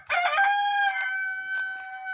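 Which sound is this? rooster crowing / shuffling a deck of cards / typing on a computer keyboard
rooster crowing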